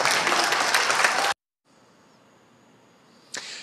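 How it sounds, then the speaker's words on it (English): Town hall audience in South Carolina bursting into loud applause and cheering for about a second and a half, then cutting off abruptly to near silence, followed by a faint hum and a brief sharp noise near the end. "A lot of applause, that last line."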